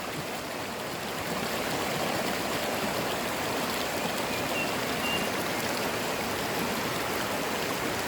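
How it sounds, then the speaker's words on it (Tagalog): A river streams steadily in a rural farming area, a continuous close rush of flowing water that swells slightly after the first second and stays loud and even with no talking. "ayan po ang ating ilog"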